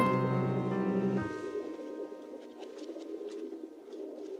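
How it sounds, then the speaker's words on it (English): Soft pigeon or dove coos, low and repeated, sit under a sustained musical chord at first. Then low murmuring calls carry on quietly on their own with faint higher bird sounds. "Father says birds are filthy, but I think they're beautiful."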